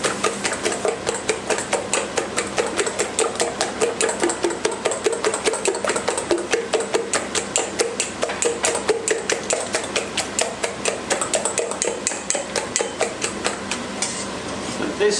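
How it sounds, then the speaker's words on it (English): Eggs being whisked by hand in a bowl for a tortilla, a fast, steady rhythmic ticking and clatter that carries on for the whole stretch, close and fairly loud. "and whisk that through the eggs."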